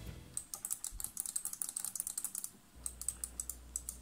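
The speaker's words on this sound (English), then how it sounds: "Let's see how the joystick sounds." The joystick of a Sega Astro City Mini arcade console clicks rapidly, a close, light burst of dozens of crisp microswitch taps, then a short pause before another quicker run of clicks.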